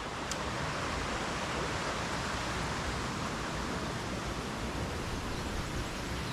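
A mountain river in Asturias rushes in a steady, dense broadband roar, loud and close, with no pauses or talking.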